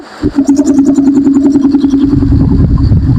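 An electric motor switches on abruptly and runs with a loud, steady hum and a pulsing, throbbing texture, close by and alone.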